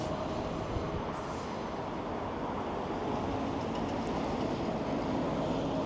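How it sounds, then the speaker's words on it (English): Steady rumbling train noise with a continuous broadband roar, no clear high-pitched screech standing out; fairly loud and constant throughout. "I feel like I hear like a train. I hear like rails screeching."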